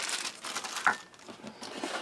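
Plastic wrapping from a Czech army 24-hour combat ration crinkles and crushes in a few quiet, close handling rustles, with one sharper crackle partway through.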